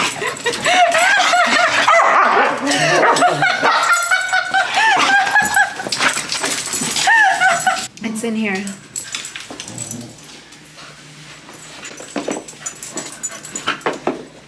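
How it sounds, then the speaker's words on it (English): A dog barks excitedly in repeated yips and whimpers, close by, while a person talks over the noise. "Why are you barking?"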